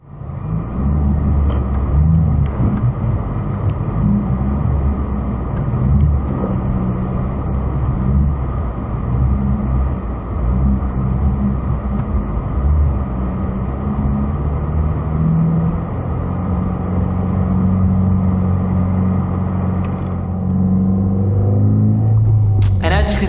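A 2016 Subaru WRX on studded Gislaved Nordfrost winter tires pushes through deep snow on a back road, giving a loud, steady low rumble of engine and tires that holds for the whole stretch.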